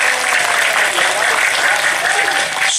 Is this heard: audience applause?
yes